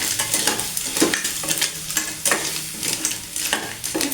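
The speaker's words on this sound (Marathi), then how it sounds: "जो एक भाग आपण घेतलेला आहे शिवल्याचा तो आपण यामध्ये टाकून हे छान असं परतवून घेऊया" Clams sizzle and fry in a hot pan while being stirred, with steady crackling and periodic scraping strokes of a spoon throughout, close and fairly loud, no voices.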